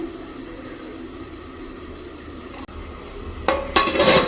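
A metal kadai is set down on a stove in a home kitchen during egg curry cooking, with a faint low hum under it, then a sharp clatter and bright metallic clanks near the end.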